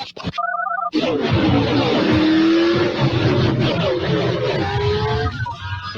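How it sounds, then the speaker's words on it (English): Sprint race cars on a dirt track during a Saturday night race, engines roaring loudly and continuously as several cars pass, with rising and falling engine pitch and a brief burst of other sound at the start. "Just listen for the sound of the sprint cars."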